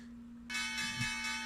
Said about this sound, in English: Let me just quickly ding that bell.